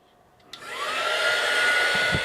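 A heat tool or dryer switches on with a click and rises into a steady, loud blowing whir as it dries ink-sprayed paper leaves, close by and with no talk.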